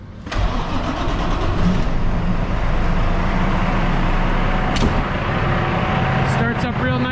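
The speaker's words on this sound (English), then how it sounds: "Get the old truck started up here." An old silage truck's engine cranks and catches, then settles into a loud, steady rumbling idle close by, with a few clanks and short sharp squeaks near the end.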